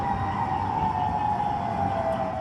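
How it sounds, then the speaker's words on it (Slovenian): Tsunami warning sirens sound across Oahu, Hawaii, a steady, sustained wail heard from a distance over faint background noise. "Tudi slovenskemu paru Joviti in Alešu so opozorilne sirene pred cunamijem prekinile miren dan na havajskem otoku Oahu."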